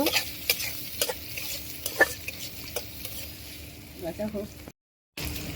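Onions sizzle in a pan for cauliflower bhaji while a utensil stirs them in repeated scraping strokes, close and fairly loud, before the sound cuts out briefly near the end.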